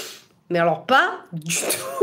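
A single abrupt sneeze bursts out amid someone speaking close up.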